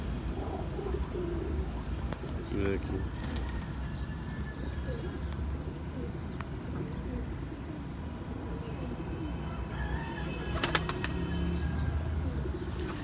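Pigeons cooing softly amid a busy outdoor background, with brief bursts of wing flapping and someone speaking briefly.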